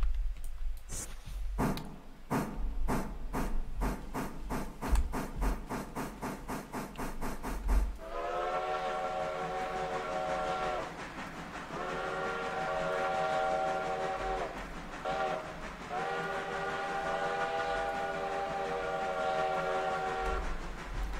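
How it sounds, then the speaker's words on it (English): A steam locomotive in the Railroader video game chuffs in rapid, rhythmic beats, then sounds a long, loud NYC five-chime whistle in several sustained blasts with brief breaks. "I really like this whistle. This is a great one. That, in my opinion at least, that is the NYC 5 chime."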